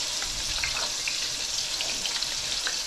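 Parsnip fritters frying in a pan, a steady broadband sizzle with small crackles and spatters running continuously and close for the whole stretch, no voices.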